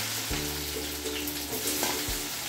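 Chopped onion and garlic fry in hot oil for capsicum chicken, a close, steady sizzle with a faint humming tone running underneath and a couple of soft stirring bumps.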